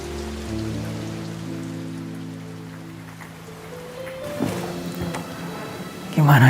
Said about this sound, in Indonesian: Mana hujan deras lagi.